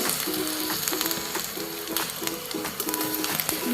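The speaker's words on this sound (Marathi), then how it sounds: "तुम्ही बघू शकता भेंडी छान अशी फ्राय होते." Okra (bhindi) frying in a pan, a continuous close sizzle and crackle with a few light stirring scrapes and short repeated mechanical whirs in the background.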